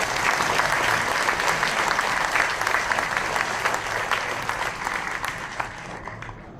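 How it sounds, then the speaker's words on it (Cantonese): An audience at a Hong Kong nautical school's 80th anniversary event applauds the alumni association, loud, dense clapping filling the hall steadily before gradually thinning and softening toward the end. "我哋俾啲掌聲俾舊生會。"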